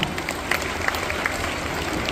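A crowd claps loudly for Varad at a lucky-draw gathering, a dense, steady burst of applause that carries on evenly throughout.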